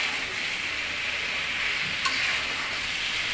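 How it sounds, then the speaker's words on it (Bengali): Chicken roast cooking down with spices in a pan, a continuous close hiss of frying with a single faint clink partway through, no voices over it. "এটাকে আমরা অল্প আছে 5 মিনিটের মতো ভালোভাবে কষিয়ে নেব, মশলাগুলো যেন সব মাংসের ভিতরে চলে যায়"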